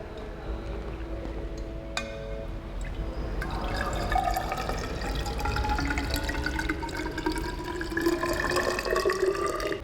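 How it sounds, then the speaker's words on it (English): Water is poured into a 500 millilitre measuring cylinder up to the 400 millilitre mark, starting with a few drips and then a steady trickling pour whose pitch rises as the cylinder fills. "We now take 500 milliliters measuring cylinder and pour water up to"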